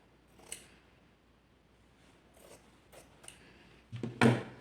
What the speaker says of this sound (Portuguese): Que eu vou partir ao meio com a tesoura mesmo